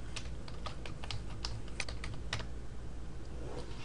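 Fingers typing on a computer keyboard, a quick uneven run of soft, close key clicks over quiet room tone.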